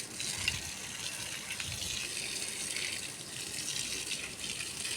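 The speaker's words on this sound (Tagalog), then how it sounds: "Diligan muna natin ang ating mga tanim bago tayo magbuhos." Water is poured steadily over growing plants, a continuous close splashing gush that stays fairly even throughout with slight surges, with no voices over it.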